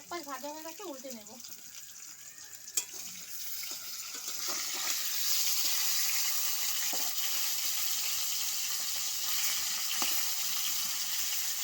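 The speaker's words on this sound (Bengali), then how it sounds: "মাছের এক পাশ ভাজা হয়ে গেছে, উল্টে নেব।" Rohu fish frying in a pan for a potato and rohu fish curry: a steady frying sizzle that grows louder and fuller partway through, with a few clicks and a brief tonal sound at the start.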